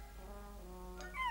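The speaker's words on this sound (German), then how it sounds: "Azrael, möchte das Kätzchen noch etwas Milch?" A cartoon cat meows in a children's Smurfs animation, a short rising cry near the end over a steady sustained musical background.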